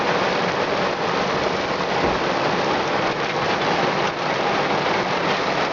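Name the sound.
heavy downpour at lakeshore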